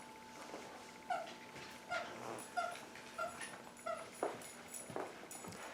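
Pet dog playing with a squeaky toy indoors, producing repeated short high squeaks in an uneven rhythm, fairly faint and close, with soft whimpering noises between them.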